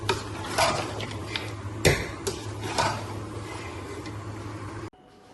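Garam masala being stirred and roasted in a pot for shaljam (turnip) chicken, with scraping spoon strokes and clinks against the metal over a steady low hum, ending in a sudden cutoff.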